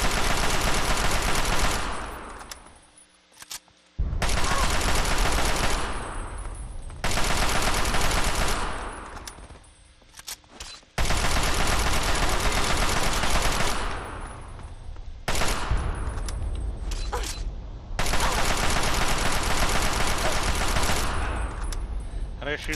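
Repeated bursts of automatic gunfire in the Fallout 3 Operation Anchorage battle against turrets, loud and sustained in long volleys broken by short quiet gaps.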